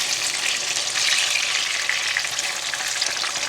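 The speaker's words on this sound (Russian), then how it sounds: "можно эти баклажаны и жарить, и запекать в духовке" Eggplant slices fry in a pan, a loud, steady, close sizzle and crackle of hot oil with no voices.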